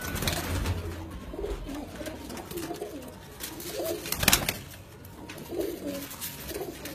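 Several patti-type racing pigeons cooing in repeated low throaty phrases close by, with a steady background hiss and one brief sharp rustle.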